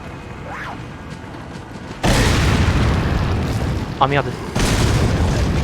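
A grenade detonates in Resident Evil 4, a sudden loud boom at about two seconds followed by sustained rumbling blast noise, with someone talking and exclaiming over it.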